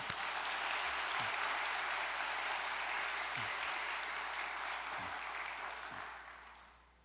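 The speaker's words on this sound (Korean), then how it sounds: "열심을 다해 활동하고 있는 식구님들을 위해서 격려의 박수를 한번 보내겠습니다" A church congregation applauds in encouragement of its evangelists and members during a Sunday service, a steady dense wash of clapping hands that holds evenly for several seconds before fading out at the end.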